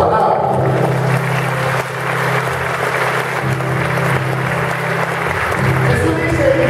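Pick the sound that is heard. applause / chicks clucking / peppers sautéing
applause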